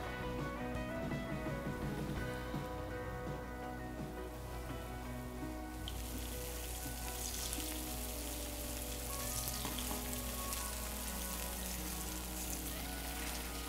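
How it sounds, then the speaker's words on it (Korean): Flour-coated salmon sears skin-side down in a hot pan with a continuous, dense sizzle that grows brighter and fuller partway through, steady and close. "밀가루를 살짝 얇게 입힌 연어를 껍질 쪽이 면이 밑으로 가게 먼저 올리도록 하겠습니다"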